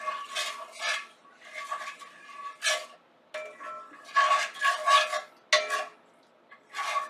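Sofrito sautéing in a paella pan, with a utensil stirring and scraping in irregular bursts of clinking and rasping separated by short quiet pauses.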